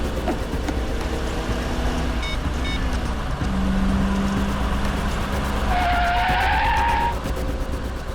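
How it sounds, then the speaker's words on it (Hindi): A car driving fast with its engine droning steadily while tires skid and screech, a rising squeal building near the end, all sounding close and loud with no talking. "जरा गाड़ी आराम से चलाओ"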